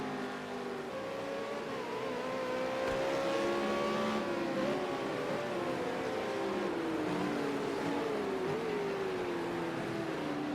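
V8 Supercar race cars roar around Ruapuna Park in Project Cars 2, a steady loud engine drone whose pitch slowly climbs and dips as the cars accelerate and lift, with no voices present.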